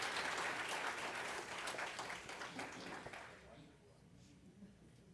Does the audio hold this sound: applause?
yes